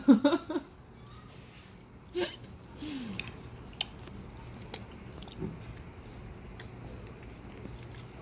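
A four-year-old boy chewing green grapes close up, with a few wet bites and squishy crunches at the start and scattered soft chewing clicks afterward over a quiet room.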